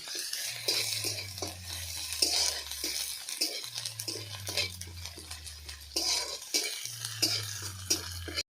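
Masala with garlic paste being stirred and fried in a pan for a vegetarian egg-style curry, with a spoon scraping and clinking against the pan in repeated strokes over a steady sizzle, close and clear.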